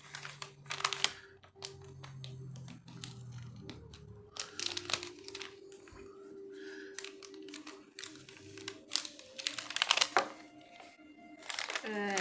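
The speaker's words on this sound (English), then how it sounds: "I will let you knife through the sticker." A knife slicing through a sticker and opening the packaging of a witch box, with scattered crinkling, tearing and scraping noises of paper and cardboard, some sharp bursts, and a voice talking intermittently.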